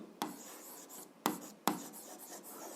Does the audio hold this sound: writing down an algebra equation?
yes